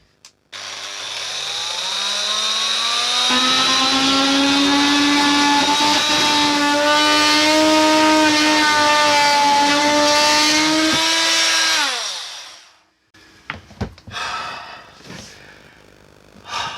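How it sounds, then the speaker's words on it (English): An oscillating multi-tool cuts wooden strips on a narrowboat, a loud, close, steady high buzz held for about twelve seconds before winding down, followed by a few brief clunks and handling noises. "now I have got to get the multi-tool out and have a bit of a burn up with that"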